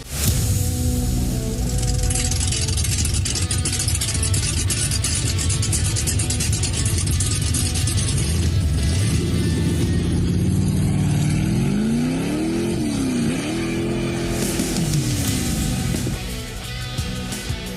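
A car engine revs loudly and continuously, climbing and falling in pitch with a few rising sweeps of throttle near the end before settling.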